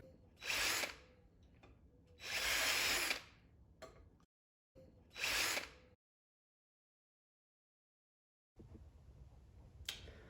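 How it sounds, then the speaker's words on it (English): A mower blade is ground on a sharpener stone in short bursts of harsh whirring, three close passes separated by pauses, then a long silence before quieter grinding resumes. "it'll allow you to sharpen the blade here"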